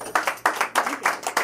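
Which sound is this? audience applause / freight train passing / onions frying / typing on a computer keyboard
audience applause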